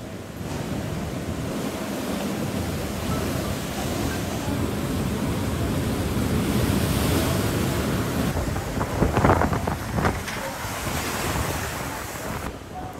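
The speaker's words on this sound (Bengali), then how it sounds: "উপকূলীয় বিভিন্ন জায়গায় ঝোড়ো হাওয়া ও থেমে থেমে বৃষ্টি হচ্ছে" Gusty cyclone wind from Cyclone Remal on the Bangladesh coast roars and buffets the microphone continuously, with a surf-like rushing wash rising and falling, close and loud.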